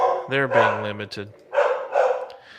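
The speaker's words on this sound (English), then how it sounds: "You hear my dogs? I'm sorry, they're wanting to go outside." Several dogs bark and yip close by as they wait to be let outside, sharp repeated barks in quick bursts, with a person talking over and between them.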